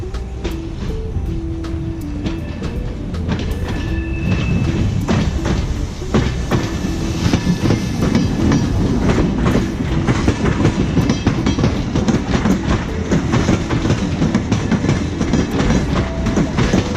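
Train rolling past on rails in Tbilisi, a loud continuous rumble with rhythmic clickety-clack of wheels over joints and squealing metal tones, close by and building as the cars pass.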